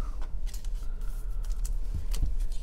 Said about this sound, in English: He's shuffling the cards